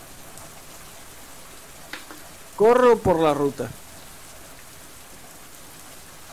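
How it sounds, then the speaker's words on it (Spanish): Rain from a furry visual novel game falls as a steady, even hiss throughout. A voice speaks briefly over it partway through. "Repentinamente la lluvia empezó a caer de nuevo."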